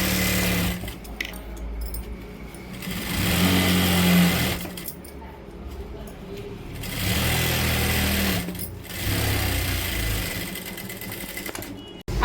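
An electric sewing machine stitches a Kashmiri palazzo in three long, loud runs of rapid whirring separated by short pauses, close up with no talking.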